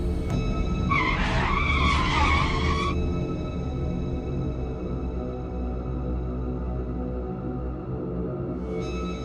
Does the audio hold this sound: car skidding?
yes